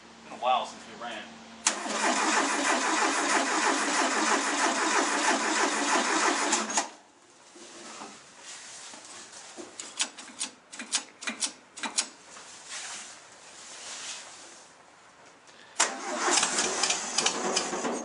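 A 1974 VW Beetle engine cranks and catches, running loud and steady for several seconds before cutting off. Scattered mechanical clicks and knocks follow, then the engine cranks again near the end, with people talking throughout.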